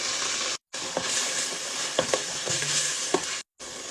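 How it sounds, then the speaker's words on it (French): Meat and onions fry in a pan with a dense, steady sizzle, broken by a few short scraping stir sounds and two brief moments of silence. "J'ai rajouté la viande et les oignons, je vais les faire revenir."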